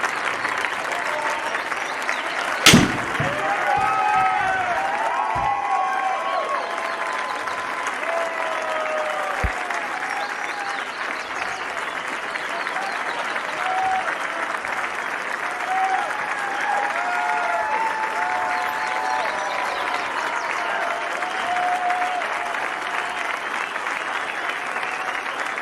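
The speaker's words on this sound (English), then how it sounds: "And he will be showered with that applause at 18" A golf gallery gives sustained, steady applause for Scottie Scheffler on the 18th hole, a dense wash of clapping from a large crowd that carries on throughout, with a faint voice underneath.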